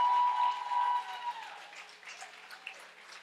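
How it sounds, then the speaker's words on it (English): Audience applause in a speaking venue, loud at first and then thinning out into scattered claps and a few cheers. "Yeah, y'all can clap for that."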